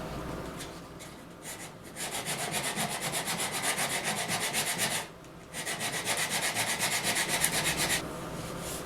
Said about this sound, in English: So my plan is just to sand the two pieces where they'll match.